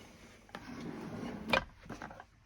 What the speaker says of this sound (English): So the drawer's getting caught, but it does work if I can get my finger in there.